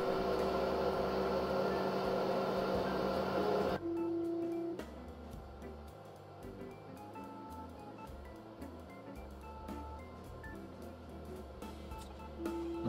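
A Creality CR-10 3D printer with a direct extruder prints flexible filament at 40 millimetres per second onto a polycarbonate bed. A loud fan-like whir cuts off early, leaving quieter motor whines and soft ticking.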